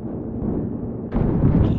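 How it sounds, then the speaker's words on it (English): An incendiary grenade bursts in Battlefield Hardline: a rumbling, low-heavy explosive roar with a sharper flare of sound partway through, close and loud, followed by crackling burning noise. "Tossing incendiary, watch it!"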